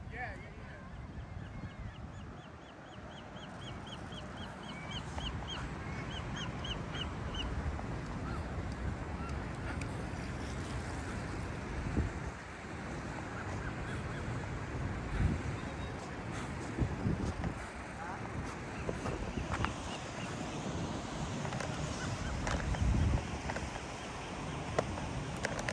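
Geese and other birds honk and call outdoors near a stadium under construction, a busy chorus of cries over steady wind and ambient noise, with occasional distant voices.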